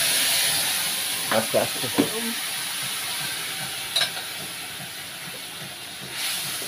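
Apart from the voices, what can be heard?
dal poured into hot spiced oil, sizzling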